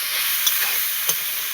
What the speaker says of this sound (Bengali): কলা মোচা ভাজা ভাজা হয়ে গিয়েছে।